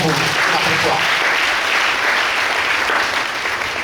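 A church congregation bursts into sustained, loud applause acclaiming the Lord, a dense even clapping that fills the room for several seconds.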